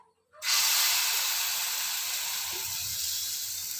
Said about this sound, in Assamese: এতিয়া মই টাৱা বহুৱাই দিছোঁ, টাৱাটো গৰম হৈ গৈছে, তাতে অকণ তেল দি দিম।